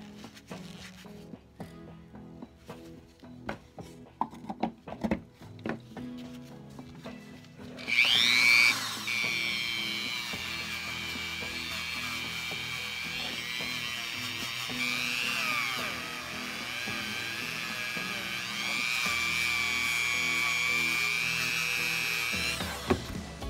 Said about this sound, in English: I'm going to start sanding this off, probably with my 600 grit sander